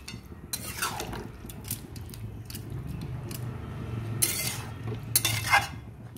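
Fried paneer, cashews and raisins being stirred into a simmering Navaratna korma of mixed vegetables: a spoon scrapes and clinks against the pot in irregular strokes, with soft wet squelches and a steady low cooking hum, no voices.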